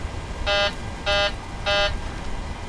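A PMDG 737-700 takeoff configuration warning in Microsoft Flight Simulator 2020 sounds as three evenly spaced, loud electronic buzzing pulses over a steady cockpit hum, with no talk.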